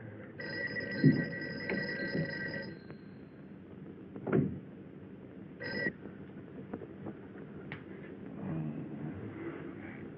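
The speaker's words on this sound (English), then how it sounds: "Mary, see if you can get Jan on the phone" A telephone rings unanswered in an office building room, its bell repeating in a few bursts over a quiet interior with faint rustling.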